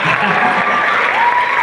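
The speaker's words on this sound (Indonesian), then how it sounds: "Tepuk tangan dulu dong." Audience applause at a children's choir competition in Pasuruan, a brief burst of dense, steady clapping from a crowd.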